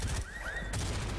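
Gunfire in a shooter video game comes as a quick burst of shots, over in about a second, with a thin rising whine behind it and no voices.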